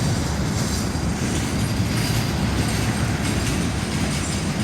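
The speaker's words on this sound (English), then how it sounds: "10 more train cars, I think." Freight train cars roll steadily past at close range, a dense continuous rumble and rattle of wheels on rail with no pauses, loud and unbroken throughout.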